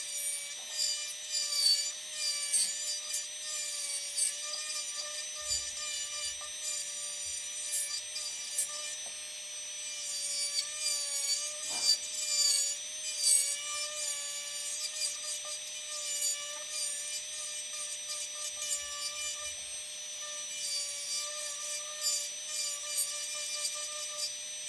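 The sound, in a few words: relief carving wood on a turning with hand tools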